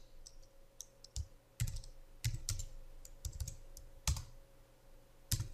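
Keys are struck on a computer keyboard in Word 2003, Tab and Enter presses landing as sharp, close, separate clicks at irregular intervals over a faint steady hum, with no voice.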